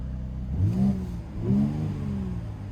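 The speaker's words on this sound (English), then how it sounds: "I might do a little bit of a rev for you guys" A 2019 Mercedes-AMG GLC 43 Coupe engine, exhaust flaps open, revs sharply twice in quick succession against a soft limiter, each burst rising and falling back to a throaty idle, close and loud.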